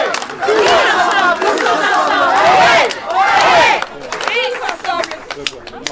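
Crowd at a municipal election-results gathering in Saint-Josse applauds and cheers loudly and steadily for about four seconds, dense shouting and clapping, then tapering into scattered claps and murmuring voices.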